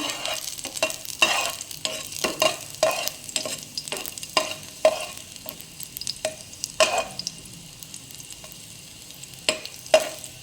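Garlic sautés in a pan while a utensil stirs it. Repeated scraping and clinking strokes come up close over a soft, steady sizzle, and they thin out toward the end with no speech.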